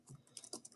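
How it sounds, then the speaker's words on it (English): A short burst of soft, quick keystrokes on a computer keyboard, faint and close, with no voices. "I'm going to type in my answers."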